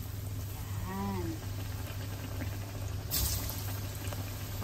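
Banana pieces with sugar frying in hot cooking oil for a Filipino snack, giving a steady, faint bubbling hiss throughout with a brief chirp-like tone early on.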